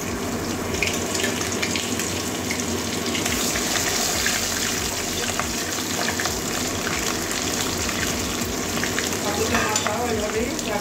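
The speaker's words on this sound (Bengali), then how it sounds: "বাকি দুটো মাথাও আর একটা সাইড ওটাও এইভাবে ভেজে নেবো" Katla fish heads fry in hot oil in a pan, a steady dense sizzle with running-water-like crackle filling the whole stretch, close and continuous, with no talking.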